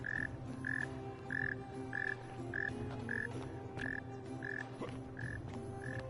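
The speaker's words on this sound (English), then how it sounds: "Is that like a chirping frog?" Frog in The Forgotten City game chirping in an even rhythm, about ten short bright croaks spaced roughly half a second apart, clear over a low ambient bed.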